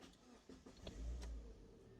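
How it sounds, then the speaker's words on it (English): A Mazda Miata NB2 cranks briefly and its engine catches, a low rumble swelling and settling into a steady idle after a few faint clicks from the key. "Car starts."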